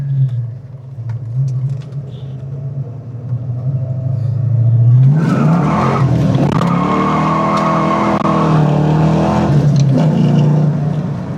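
A Ford Mustang Foxbody accelerates hard, a steady idle rumble swelling into a loud, close engine roar that climbs in pitch through the gears and holds strong to the end, with no talk.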